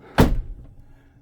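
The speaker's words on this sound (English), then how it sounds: "I'm going to close the door." The entry door of a 2024 Niesmann Bischoff iSmove motorhome swings shut with one solid thud, followed by a short fading rumble, and nobody speaks.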